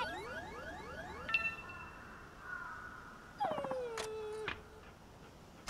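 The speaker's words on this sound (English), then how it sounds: "Hey, doggy." A dog in the samurai game Like a Dragon Ishin gives several whimpering, whining yelps with rising and falling pitch, close and clear, punctuated by brief chime-like game tones.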